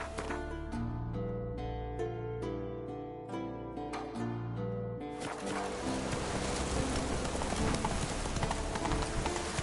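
A horse's hooves clip-clopping in The Witcher 3, starting as a steady rhythmic trot over a musical background, then blurring into a faster, denser gallop, close and clear, with no talk.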